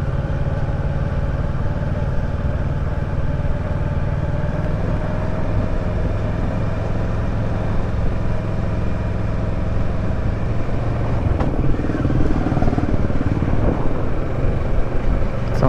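A Kawasaki Versys 650 ABS Tourer 2018 motorcycle cruising over paved road, with a steady low engine drone and road rumble that stays constant throughout, mixed with wind noise.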